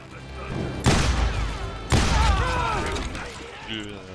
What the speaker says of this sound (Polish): Ładuj strzelbę, będziemy zabijać.